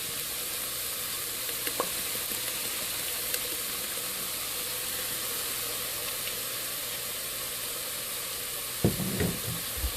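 Soy sauce hits a hot pan of pork chops, producing a loud, steady sizzle and hiss that runs throughout, with a few clinks and stirring noises near the end.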